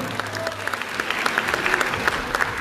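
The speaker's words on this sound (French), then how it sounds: "on peut l'applaudir s'il vous plaît" A crowd claps steadily throughout, a dense patter of many hands at moderate volume, with no voices over it.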